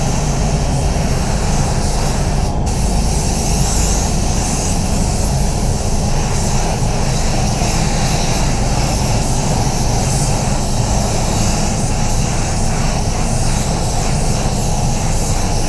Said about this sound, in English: So yeah, DB1 HVLP Plus. Been loving this gun for base coat.